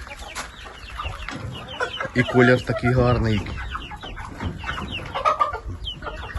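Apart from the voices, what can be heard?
ducks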